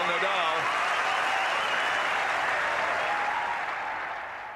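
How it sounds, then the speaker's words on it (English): Wild applause from tennis stands for the young Spaniard Rafael Nadal: a dense, loud roar of clapping that holds steady, then begins to fade near the end, with a voice briefly heard at the start. "Wild applause from the stands in appreciation for the enormous talent of the young Spaniard, Rafael Nadal."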